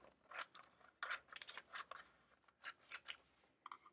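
Scissors cutting white paper strips for maracas, a series of quiet crisp snipping strokes in an uneven rhythm, close and faint, with no talking.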